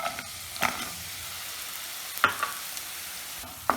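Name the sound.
jaggery melting in hot ghee, stirred in a pan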